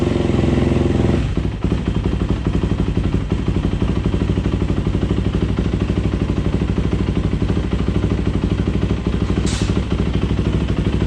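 A Honda CRF50 dirt bike's small engine runs at close range, louder for the first second, then settling into a steady, buzzing, clattering drone.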